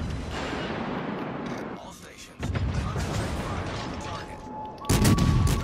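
Naval guns firing in World of Warships: Legends, heavy booming gunfire rumbling under excited talk, with a louder burst near the end.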